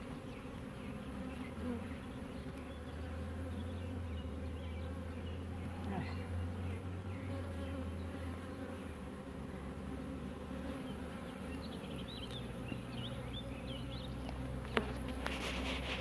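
Honey bees buzz steadily around an open hive during an inspection. The droning hum is close and constant, with brief individual bees whining past, and a low mechanical hum runs underneath.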